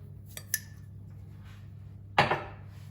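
A spoon clinks against a pot or bowl while spices such as salt, thyme and black pepper are stirred into food, giving two light taps followed by a louder scrape-and-clatter, close by in a quiet room.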